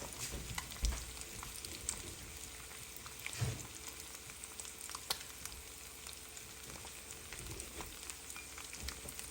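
Gravy sizzles and bubbles in a pan on a stove burner, a steady faint crackling hiss with occasional small pops and stirring ticks, no voices.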